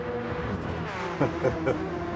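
Race cars lap a Nürburgring 24-hour endurance circuit in a sim-racing game, giving a steady layered engine drone with a few short surges as cars pass.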